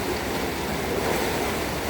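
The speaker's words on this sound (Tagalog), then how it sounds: "Bumaba ang tubig guys." Water rushes steadily down through a canal lock in Falkirk, Scotland, a continuous broadband roar of churning flow with no pauses, fairly loud and close, with no voices over it.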